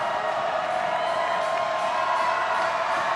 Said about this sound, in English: Avery Adamski serves amongst a loud crowd